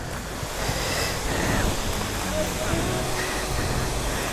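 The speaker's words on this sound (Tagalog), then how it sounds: "Uy, ito yung falls." Bridal Veil Falls waterfall beside Kennon Road, a constant broad rushing roar of falling water with some wind buffeting the microphone, steady and moderately loud with voices in the background.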